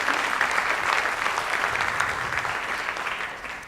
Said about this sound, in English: I'd like you to give them a big round of applause